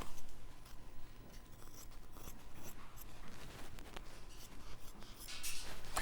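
Duck-billed scissors trimming quilt batting, a series of close, crisp snipping and crunching cuts at an irregular rhythm, with a louder rustle toward the end.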